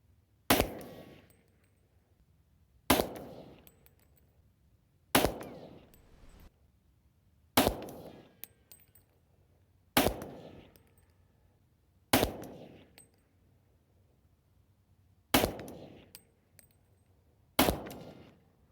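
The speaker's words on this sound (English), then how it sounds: "We'll now shoot with Recover Tactical Brace." Eight loud gunshots from a .40 caliber Glock pistol fitted with a Recover Tactical brace, firing 180-grain full metal jacket rounds, spaced roughly two to three seconds apart, each a sharp crack with a brief decaying echo outdoors.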